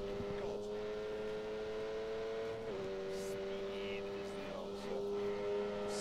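Lamborghini supercar engine in The Grand Tour racing game, a steady high drone with layered harmonics holding pitch, dipping briefly as gears shift, with a voice talking over it.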